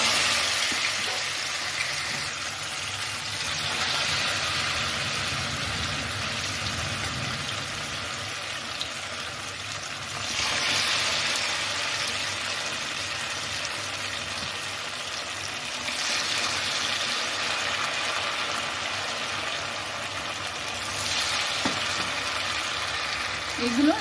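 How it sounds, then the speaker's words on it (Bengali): Cabbage pieces dipped in cornflour batter sizzle continuously in hot oil in a kadai, a steady close frying hiss with gentle swells as pieces go in. "এগুলো লাল করে ভেজে নেব।"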